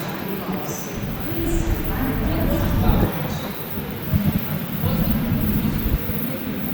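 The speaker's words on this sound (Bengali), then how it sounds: "ট্রেন আসতেছে" A train arrives at a station, a rising rumble with wheel clatter and a few high squeals, loud and close amid ambient platform noise.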